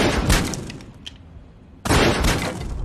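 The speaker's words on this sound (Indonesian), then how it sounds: "ia dengan refleks melepaskan tembakan hingga membuat lemari itu pun jebol." A gunshot fired into an old wardrobe in a thriller film, bursting it open: a loud, sharp blast with a cracking, breaking crash, then a quieter stretch before a second loud burst.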